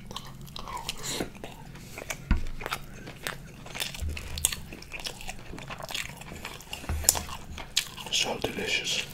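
Close, crisp biting and chewing of baked cod, with soft wet crunches and squishy mouth sounds in an irregular rhythm, faint whispered talk between bites.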